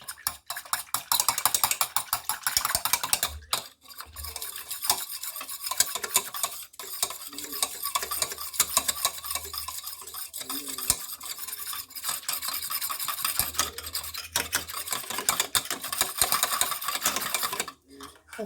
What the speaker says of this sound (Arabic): هانتوما وغادي نبقاو كنحركو مع التحريك